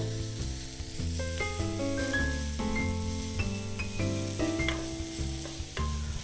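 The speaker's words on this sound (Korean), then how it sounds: "당근을 넣고 볶아 볼게요." Carrot pieces stir-fry with a pinch of salt in a pan on a gas stove, giving a steady, close sizzle and stirring beneath prominent tonal background music.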